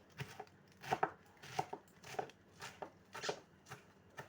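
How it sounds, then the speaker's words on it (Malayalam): A knife chops through Madras spinach wrapped in a pumpkin leaf, sharp close cuts landing in an uneven rhythm roughly every half second, with no talking. "എൻ്റെ ചീര അരിയുന്ന ഐഡിയ."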